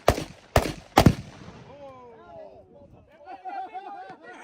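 Three sharp, loud gunshots crack in quick succession at an outdoor shooting range, each followed by a fading echo, then voices talk in the background.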